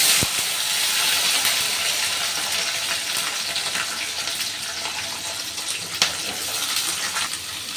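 Beans, carrot and capsicum frying in ghee with bay leaves and whole garam masala, a steady broad sizzle close by with no talk.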